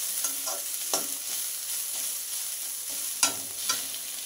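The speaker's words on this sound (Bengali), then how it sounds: "চিনিটা দিয়ে আবারও কিছুক্ষণ সজনে পাতাটা এইভাবে ভেজে নেব" Drumstick leaves fry with a little sugar in a pan, a constant soft sizzle punctuated by several distinct spatula scrapes and stirs, the loudest just past three seconds.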